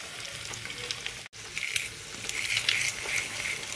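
Two eggs sizzling in a pan with chopped onion for a Sri Lankan cabbage dish, a constant close frying hiss with brief stirring scrapes and a short break midway.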